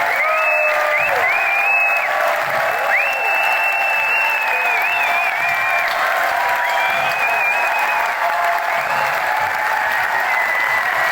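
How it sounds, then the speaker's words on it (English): Thunderous, sustained applause from a concert crowd as the band leave the stage after a live show in Sydney, steady and loud throughout, with whistles and cheers cutting through the clapping. "let's have a look at the way they left the stage in that thunderous applause"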